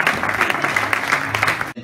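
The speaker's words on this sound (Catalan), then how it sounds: "Jo l'aplaudiré amb el Julio" Crowd clapping at a club anniversary party, steady indoor applause from a group, fairly close, stopping abruptly near the end.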